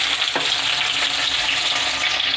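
Tomato pieces and green chilies frying in hot oil in a pan, a steady loud sizzle with a brief stir near the start, no voices.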